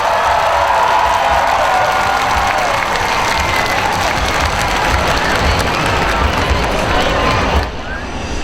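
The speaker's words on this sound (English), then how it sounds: "all he's going to get, ladies and gentlemen, is the applause from you guys" A large crowd at a fair monster truck show applauds and cheers loudly and steadily for driver Joey Foley, a dense wash of clapping and shouting that cuts off abruptly near the end.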